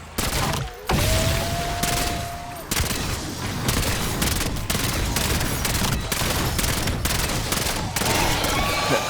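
Pentaburst rifle fitted with a double tap perk in Black Ops 4, firing rapid loud bursts almost without pause, with brief gaps between volleys and a rising game tone early on.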